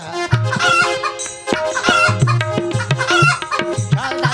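A rooster in a comic puppet-show skit crows and clucks in loud, close bursts. The calls come in a quick, choppy rhythm with brief gaps between them.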